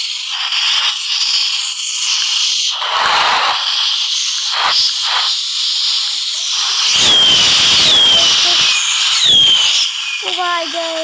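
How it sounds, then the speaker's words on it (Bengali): Fireworks go off in a firework simulator game: hissing launches, crackling bursts and rising whistles, loud and overlapping, with a few whistling squeals near the end. "ফায়ার ওয়ার্কস ফুটাচ্ছি এখন।"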